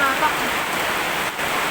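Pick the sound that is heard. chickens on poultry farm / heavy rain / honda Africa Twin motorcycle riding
heavy rain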